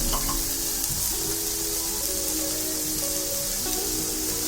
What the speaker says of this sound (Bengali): ভালো করে মশলাটা কষাতে হবে, তা না হলে মশলার গন্ধটা থেকে যাবে।